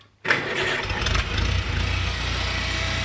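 A small engine with its choke just taken off starts abruptly after a moment of quiet, then settles into a steady, fairly quiet idle that stays close and even.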